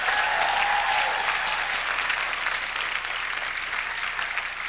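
Audience applause at a corporate comedy show: a steady, dense clapping from a room full of people, fairly loud throughout and slowly fading a little toward the end, with no talking.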